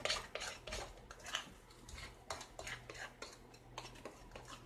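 Peanut butter cookie dough, gluten free and made from three ingredients, being mixed in a bowl, with quiet, rapid scraping and clinking of a utensil against the bowl in an irregular stirring rhythm, close and faint.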